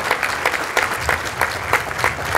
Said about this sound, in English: let's give this team a big round of applause